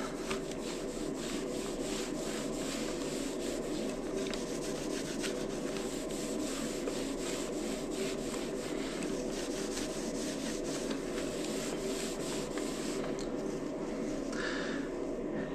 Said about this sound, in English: So just going up and down, really getting that old wax off.